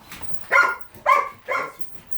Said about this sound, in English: The barking that you're seeing is something that I encourage